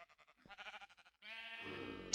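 Sheep in Minecraft bleat in short wavering calls, a few quick bleats followed by a longer drawn-out one, close and clear with nothing else playing.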